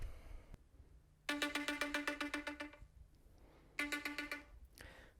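An electronic alarm rings in two bursts of rapid, bright, repeating beeps, the first lasting about a second and a half and the second shorter. It plays at moderate volume in a quiet room with no speech.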